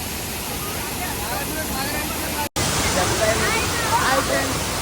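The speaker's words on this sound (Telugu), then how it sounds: "ఇక్కడ పైన నీళ్ళు పడుతున్నాయి" Steady rushing splash of water pouring down from above, loud and continuous, with a brief cut in the middle and faint voices mixed in.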